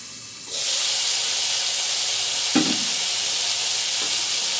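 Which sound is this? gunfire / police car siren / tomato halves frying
tomato halves frying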